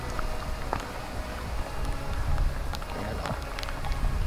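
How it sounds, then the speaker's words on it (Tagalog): Light rain drizzling outdoors on a farm field, a steady soft hiss with scattered drop taps and faint wind, continuous and fairly quiet throughout. "Naambon pa rin."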